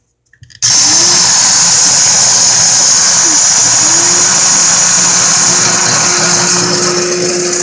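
An electric coffee grinder grinds coffee beans with a sudden loud, steady whirring roar that starts after a brief click and runs unbroken at close range.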